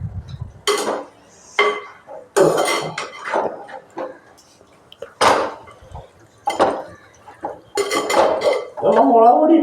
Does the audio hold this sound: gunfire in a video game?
no